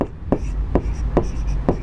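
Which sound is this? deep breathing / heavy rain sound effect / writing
writing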